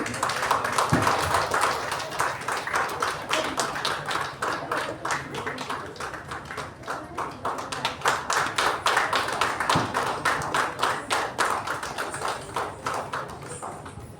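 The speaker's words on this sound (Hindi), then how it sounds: "आपकी तालियां जोरदार बजनी चाहिए।" Applause from the audience at a tour operators association's seventh anniversary ceremony in the Andaman and Nicobar Islands. Many hands clap briskly and steadily all the way through, swelling and easing in waves.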